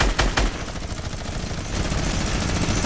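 Gunfire in a Fortnite trios match: two sharp shots close together at the start, then a dense, steady rattle of continuous firing that swells slightly louder toward the end.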